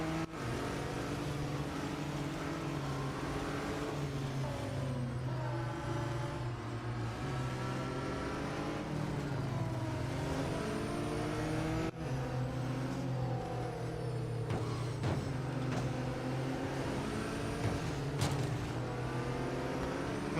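GT4 race car engine in Real Racing 3, revving up and down through gears in a steady loud drone with shifting pitch, one sharp break midway, no voices.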